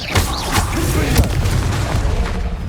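A Confringo fire spell explodes in the wizarding action game Hogwarts Legacy, a loud, close boom with deep rumbling blasts and crackling bursts over about three seconds.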